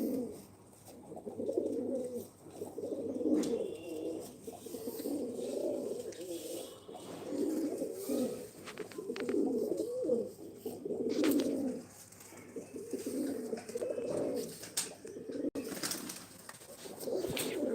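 Pigeons coo repeatedly in soft, low, rolling phrases, several birds overlapping close by, with faint background noise and occasional clicks.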